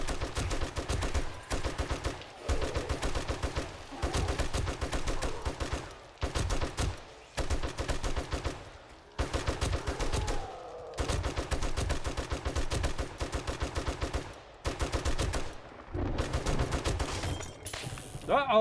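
Rapid bursts of automatic gunfire in the survival game 7 Days to Die, played at a desert base defense, firing in repeated volleys separated by brief pauses, loud and close throughout.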